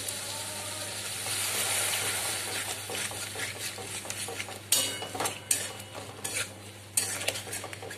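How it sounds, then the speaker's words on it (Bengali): Egg korma masala with cashew paste sautéing in a pan, a soft steady sizzle under repeated scraping and clinking of a spoon stirring against the metal, no talk. "এক দু মিনিট কষিয়ে নেব"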